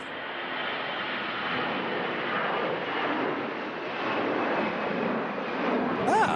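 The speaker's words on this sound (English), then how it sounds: "So we have this Aer Lingus A320 departing" An Aer Lingus A320 airliner departs Manchester Airport in strong winds, a loud continuous broadband engine roar holding steady throughout with gusty wind noise.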